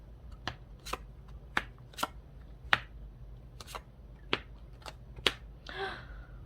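Crisp card snaps and riffles during a tarot shuffle, about a dozen irregular sharp clicks, quiet and close, ending in a brief soft rustle, with no talk.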